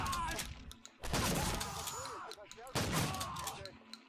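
Shotgun blasts from the video game Blade of Agony, two heavy booming shots about two seconds apart, each with a long ringing decay over in-game background noise.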